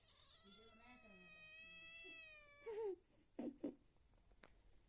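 A cat meows repeatedly up close, a long drawn-out wavering cry followed by a few shorter meows, quiet overall.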